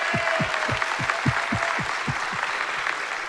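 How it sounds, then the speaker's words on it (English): A large audience applauds at a startup conference, with a steady wash of clapping over a pulsing low thump, loud and continuous throughout. "Can we have a massive round of applause for all the startups here?"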